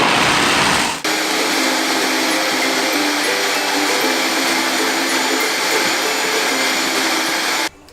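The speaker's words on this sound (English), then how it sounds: "And then we're just gonna get our blend on." A high-speed blender whirs loudly and steadily as it purees cashews with water, running at full power for several seconds before cutting off abruptly.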